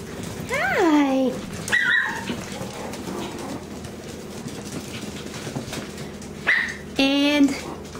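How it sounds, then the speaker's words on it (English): Morkie puppies give high whimpers and a few yips indoors, mixed with a person's talk and background rustling. "Hey, puppies."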